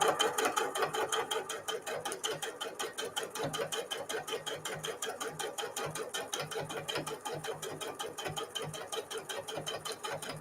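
A sewing machine stitches quilting through the front fabric layer of a microwaveable mug cozy, making a rapid, even needle chatter that runs steadily and close throughout, with no talking.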